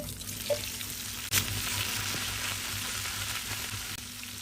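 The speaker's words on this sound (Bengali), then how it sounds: "পেঁয়াজ অল্প একটু লবণ দিয়ে ভালো করে আমি ছটা করে নিচ্ছি।" Sliced onions with a little salt frying in oil with dried red chillies, left over from frying fish, giving a steady, close hiss with a few soft stirring clicks and no talk.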